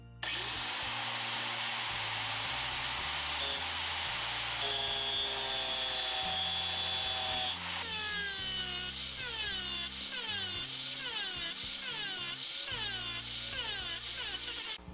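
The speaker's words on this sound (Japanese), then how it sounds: "グラインダースタンドで切ります" Angle grinder mounted on a grinder stand cutting through thick material, a sustained loud whine with a rising harmonic sweep partway through, then a steady rhythmic pattern of repeated pitch dips as the cut proceeds.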